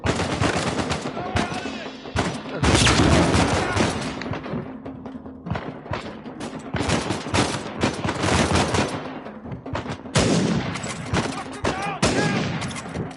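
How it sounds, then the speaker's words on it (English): Heavy gunfire from Uncharted 4 comes in loud, rapid bursts and sustained volleys, close and dense, with short pauses between exchanges and a player's voice now and then. "Oh, I shot the guy behind him by accident."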